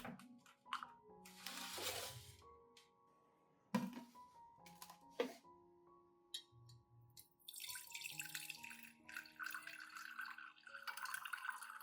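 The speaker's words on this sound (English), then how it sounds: "After 1 hour, strain the mixture to separate the liquid and discard the solids." Liquid from a plant nutrient mixture trickles and splashes through a strainer, with drips and light glassy clinks, intermittent pours rising to a steady splashing flow, close and quiet, with no talking.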